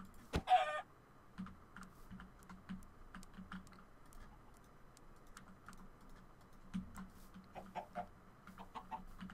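Minecraft chickens cluck in short, soft, scattered bursts, mixed with rapid keyboard clicking and one sharp click near the start, at low overall volume with no speech.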